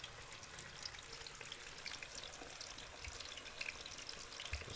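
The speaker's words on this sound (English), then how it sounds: "It's going to be frying up in no time." Steady crackling sizzle of chicken frying in hot oil, continuous and close, with small pops scattered through.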